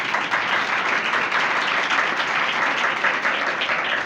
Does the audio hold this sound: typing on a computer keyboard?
no